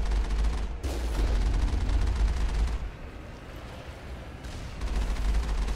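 Automatic turret gunfire in the sci-fi video game Mass Effect, heard as dense, continuous bursts of rapid shots with heavy low rumble, easing briefly midway before surging loud again.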